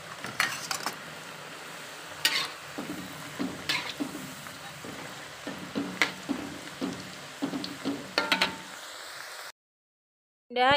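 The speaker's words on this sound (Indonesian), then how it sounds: "Dan kita goreng lagi." Rice-flour kemplang crackers being fried, mostly irregular clinks and scrapes of a utensil against the pan with a light sizzle beneath, in short bursts over several seconds before a sudden cut to silence.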